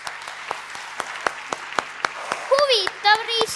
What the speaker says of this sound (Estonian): siis te plaksutate lausa tormiliselt